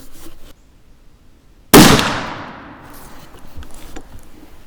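A CVA Accura MR-X .50 caliber muzzleloader fires a single loud, sharp shot outdoors, followed by a long fading echo; faint sounds come before it.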